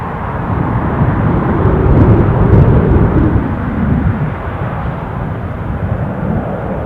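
Jet2 airliner departing Newcastle airport for Dalaman, a steady loud broadband jet engine roar that swells slightly around the middle and holds on without any talk.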